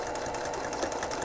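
Sewing machine stitching and back tacking a seam on a reversible bucket hat, giving a short burst of quick, even needle chatter, close and quiet.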